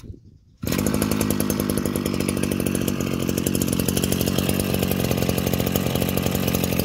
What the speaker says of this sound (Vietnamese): Đây em thử máy.